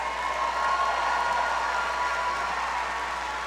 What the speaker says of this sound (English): Let's give a round of applause to the Executive Master of Leadership graduates.